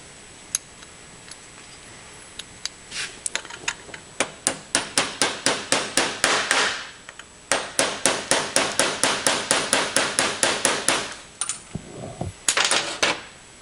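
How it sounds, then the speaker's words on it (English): A small hammer taps an axle into a Cummins VE diesel fuel pump, with rapid runs of sharp, close metallic taps, a brief pause, then another quick burst and a few final strikes. "Tap our axle in there."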